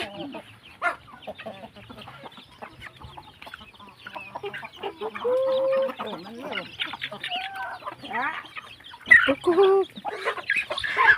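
Gamecocks and other chickens cluck and squawk repeatedly, close by, with a busy rural farmyard bustle in northeast Thailand and occasional louder calls toward the end.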